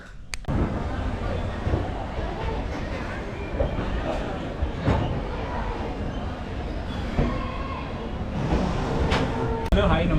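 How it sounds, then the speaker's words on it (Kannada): A train pulls out of Vijayapura (Bijapur) railway station, a continuous rumble and clatter of carriages with a few sharp knocks, close and steady, with people talking over it. "ಇವಾಗ ನಮ್ಮ ಟ್ರೈನ್ ಬಿಟ್ಟೈತಿ ಬಿಜಾಪುರ ರೈಲ್ವೆ ಸ್ಟೇಷನಿಂದ"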